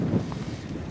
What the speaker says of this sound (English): it's back being windy again